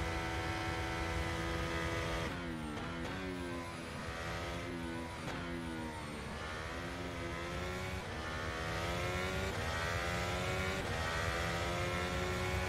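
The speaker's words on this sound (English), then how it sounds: "Now onto the back straight, building up speed." Formula 1 race car in the rFactor 2 racing game accelerating onto the back straight at Suzuka, its engine screaming loud and close with rising pitch sweeps through rapid gear changes, no voices over it.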